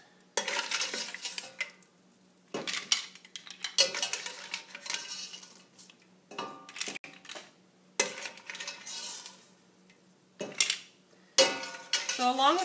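Cooked mussels are pulled from a metal pan in bursts of clattering shell and utensil scraping, with short pauses of quiet between each grab, close and fairly loud.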